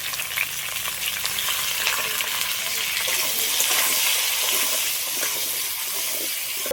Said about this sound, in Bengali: কচুগুলো সব ভালো করে ভাজা হয়ে গেছে